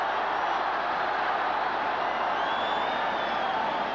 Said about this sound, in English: listen to the crowd when Growth gets the football